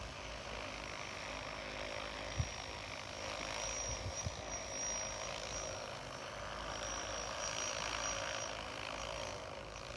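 An agricultural spraying drone flies outdoors on a windy day, a faint, steady propeller hum with a few small knocks and no voices.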